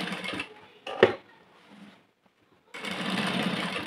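A sewing machine runs in short stitching bursts, a close mechanical chatter that starts, pauses into near silence, then resumes steadily, with a faint clunk between.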